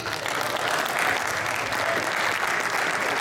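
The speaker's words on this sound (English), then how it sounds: "Big round of applause for Jerry" Steady, full applause from an event audience at a UK ports gathering welcoming a speaker, dense clapping that swells slightly then holds at an even level throughout.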